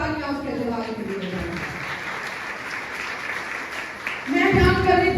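A church congregation breaks into sustained applause during a worship service, dense steady clapping that fills the room, with a voice speaking over it near the end.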